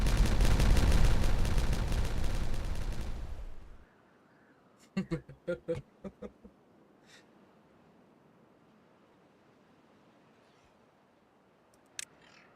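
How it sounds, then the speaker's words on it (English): Dynamite detonation in the video game Timberborn: a loud, dense explosive roar for about three and a half seconds, then a quick burst of sharp cracking debris impacts and a lone faint snap near the end. "Are we ready to detonate the dynamite?"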